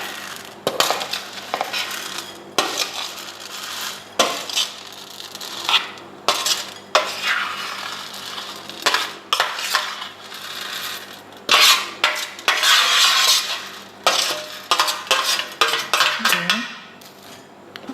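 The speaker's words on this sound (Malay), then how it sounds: "Kita campurkan semua sekali." Almond crunchy ingredients being mixed in a bowl, with repeated clattering scrapes of a utensil against the bowl in irregular bursts, close and fairly loud, no voices present.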